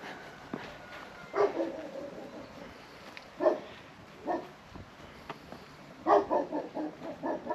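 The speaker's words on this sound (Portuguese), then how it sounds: "Ó, os cachorrinhos já estão latindo ali." Dogs bark outdoors in the distance on a wet, leafy path after rain, several faint scattered barks in irregular bursts against quiet background noise.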